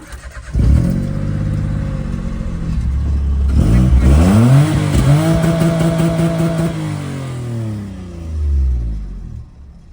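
A Citroen C1 city car's small engine cranks and catches after a sump gasket and oil change, then revs up and down several times close by before settling to idle, with no talking.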